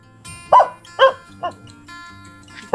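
Dogs fight outdoors, trading several sharp barks and yelps spaced about half a second apart over a low steady hum, the last bark loud and close.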